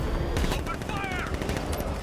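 Rapid automatic gunfire in the Batman: Arkham Knight video game, a continuous loud burst of shots layered over rumbling vehicle noise, with brief whistling effects and a voice in the mix.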